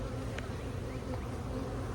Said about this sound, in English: That is one healthy hive, one healthy colony with a lot of, just a lot of bees in there.